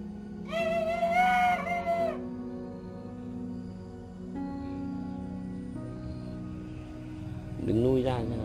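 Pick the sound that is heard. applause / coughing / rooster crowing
rooster crowing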